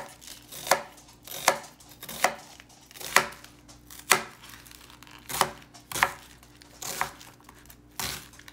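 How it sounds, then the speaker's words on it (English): A knife chops vegetables on a cutting board for an Irish soup, with about nine crisp, evenly spaced strikes close by and a faint crinkle between them. "I'm going to cut things kind of small and uniform."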